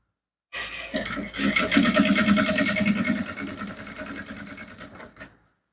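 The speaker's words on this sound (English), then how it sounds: "So you carefully stitch all along this line, making sure that the facing is being held firmly." A sewing machine stitches along a line on a facing held firmly in place, whirring steadily at close range for about five seconds after a brief silence, then stopping abruptly.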